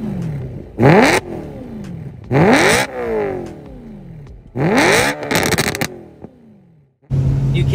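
A BMW E93 M3 convertible's naturally aspirated V8 revs hard three times, each loud burst sweeping up and falling back before a fourth rev starts at the end, close and alone with no voices.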